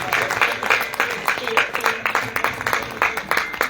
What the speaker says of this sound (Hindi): जो इंतजाम हुए हैं जो होने वाले हैं उसके लिए ताली बजाएंगे।